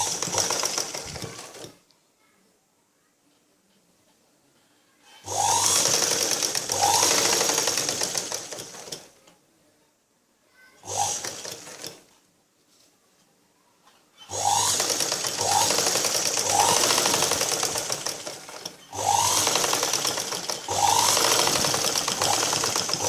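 A sewing machine stitches a blouse in four separate runs, three long and one short, each a fast whirring rattle. Near-silent pauses fall between the runs.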